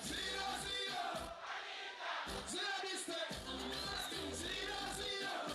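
Crowd cheering at an evening NRM presidential campaign rally, a dense roar of many voices with shouts and whistles, loud and continuous with brief dips.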